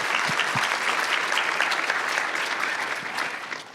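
An indoor audience at a fireside chat event applauds, with loud, sustained clapping that continues evenly throughout and fades slightly at the end.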